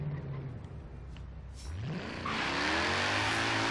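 A Mercedes C63 in Forza Horizon 3 revs at launch, its engine note climbing and rising in pitch as it accelerates hard, growing louder and fuller with no talking.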